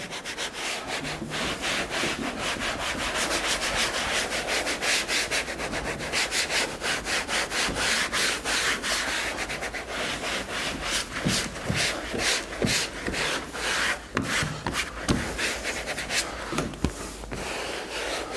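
A damp cloth rubs and scrubs the belt of an electric treadmill, a steady close-up wiping and scraping that runs continuously with quicker strokes near the end, and no one talks.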